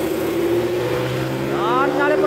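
A pickup truck accelerates to overtake on a road. Its engine hums steadily, then revs higher toward the end as the pitch climbs.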